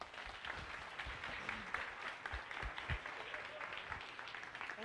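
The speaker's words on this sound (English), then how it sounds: "Let's give her another round of applause" Audience at a science café talk on DNA and ancestry testing applauding a guest, a sustained bed of many hands clapping at moderate level, with scattered louder individual claps and no speech on top.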